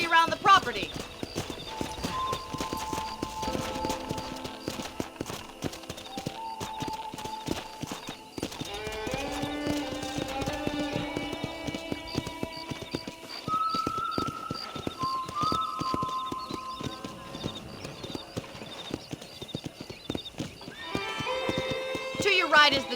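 A horse in the Red Dead Redemption video game clip-clops along steadily at a walking pace under a musical score, with a voice speaking over it and a whinny mixed in.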